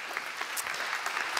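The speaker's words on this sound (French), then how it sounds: "On peut les applaudir." Audience at a conference event applauding the speakers, a brief burst of dense, steady clapping from a crowd, moderately loud.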